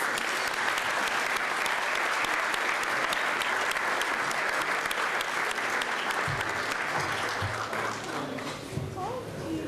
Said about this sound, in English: Everybody, if you could give them a round of applause.